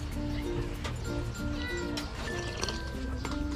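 A cat gives a few close meows as it comes in through a door in the morning inside a home, with faint background sounds.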